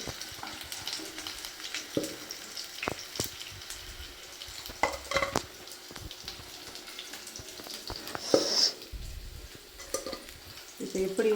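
Fish and chicken masala frying in a pan, a soft steady sizzle with scattered stirring clatters and scrapes, plus brief bursts of running tap water and occasional voices in the background.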